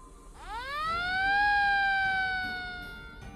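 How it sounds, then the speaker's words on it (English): A siren winds up sharply and wails loudly for a few seconds, then slowly fades, with no talking. "The siren suddenly blared in our ears"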